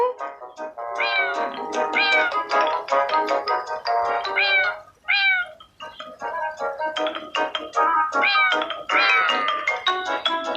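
Cat meows in the video game Cat Simulator, a long run of loud, closely repeated mewing calls with a brief gap midway, clear and alone without talk.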